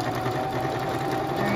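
A sewing machine runs steadily while stitching around a quilt square corner, a close, continuous mechanical whir with a fast regular needle rhythm and faint talking underneath.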